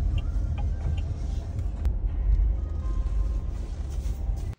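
A car rolls into the Alloy Hub wheel warehouse premises, a steady low engine and road rumble throughout, close and fairly loud with no talk.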